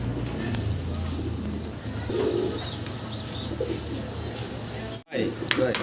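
Pigeons coo steadily and close by in a loft holding black checker breeding pairs, a soft continuous throaty murmur with faint chirps, voices faintly in the background, ending in a brief dropout and a rustle.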